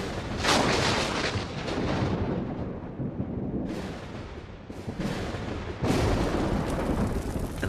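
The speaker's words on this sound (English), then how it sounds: "All this takes is a thunderstorm." Thunder from a thunderstorm over the Australian bush: deep, rumbling rolls and booming cracks in several loud bursts, with no gaps of quiet between them.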